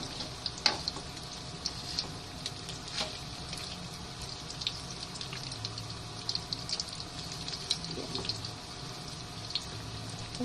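Garlic chicken frying in a pan sizzles steadily for the whole stretch, with scattered pops and crackles and faint clinks, with no voices.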